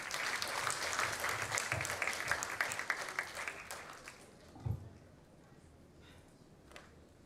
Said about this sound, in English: Sous votre applaudissement, s'il vous plaît.